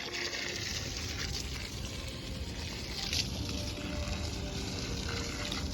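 Water pours steadily onto potted plants at home, a continuous close splashing and gushing that runs throughout with no pauses, alone with no talk.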